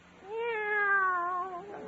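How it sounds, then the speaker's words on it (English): A single clear cat meow, drawn out and slightly falling in pitch, close and alone. "Take our cat Minerva."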